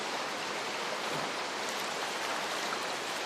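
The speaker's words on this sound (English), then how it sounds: "rain fell softly around them" Soft, steady rain falls evenly as a continuous hiss, with no distinct drops standing out and no voices.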